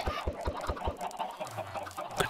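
Chickens clucking in Minecraft, a quick run of short regular clucks close by followed by softer calls, with no talking.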